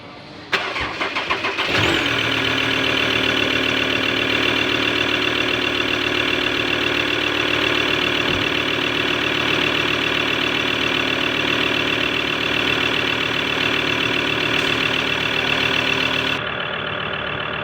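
A Ford Everest five-cylinder engine cranks briefly, catches and settles into a steady, loud, close idle with an even mechanical hum that runs unbroken for many seconds before cutting off.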